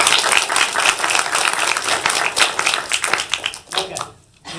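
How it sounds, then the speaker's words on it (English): A crowd at a City of Henderson meeting claps for Finley Beck: dense, fairly loud applause keeps up steadily for about four seconds, then drops off sharply near the end. "Can everybody give Finley a big round of applause?"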